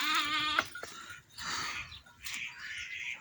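Sheep bleat in a wavering, nasal cry, followed by a few short rough bleats and rustling at close range.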